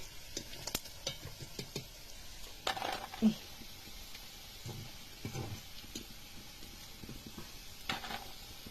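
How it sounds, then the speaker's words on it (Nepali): Chicken deep frying in oil gives a faint, quiet sizzle broken by scattered clicks and utensil taps, with occasional soft bumps nearby. "अब यतिको चाहिँ डीप फ्राई गरेर निकाल्नु पर्छ है"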